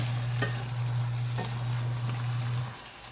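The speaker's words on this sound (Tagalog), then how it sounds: "haluin muna natin ng bahagya para naman yung bandang ibabaw mailagay natin sa ilalim" Jackfruit simmering in coconut milk is stirred in a pot, with a steady bubbling sizzle and a few soft scraping strokes over a low continuous hum that stops just before the end; no talk.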